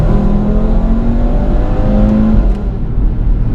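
A 2018 Audi RS3 engine pulls hard as the car gathers speed, with steady road and wind roar underneath and a rising whine in the background.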